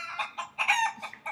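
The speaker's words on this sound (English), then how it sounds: "Get out of here, you stupid chicken!" A chicken clucks in a quick series of loud, close, choppy squawks with short gaps between them, with no other sound around.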